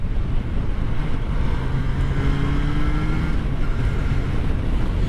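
A 2023 Triumph Trident 660 three-cylinder motorcycle ridden at steady speed, a constant engine drone mixed with heavy wind buffeting, with a brief faint rise in engine tone midway.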